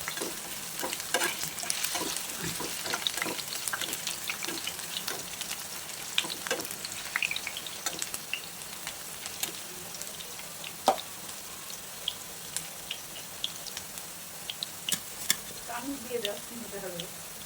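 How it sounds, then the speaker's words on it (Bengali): Spice paste of onion, garlic, ginger and chili fries with potatoes in a pan for stuffed teasel gourd curry, a soft steady sizzle close by with scattered clinks and scraping stirs, and a voice speaking briefly. "এই যে মশলাটা ছেড়ে দিলাম, এই মশলার মধ্যে সব কিছু দেওয়া আছে, পেঁয়াজ, রসুন, আদা, লঙ্কা।"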